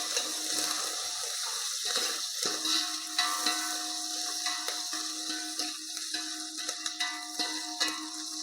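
Garlic and green chillies sizzle in hot oil for Maharashtrian kadhi, a faint steady hiss with small crackling pops scattered throughout.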